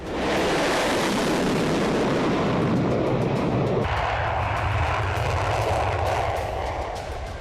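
A Russian military bomber roars loudly overhead in a dense, continuous rumble that swells at the start and eases slightly toward the end, with no speech.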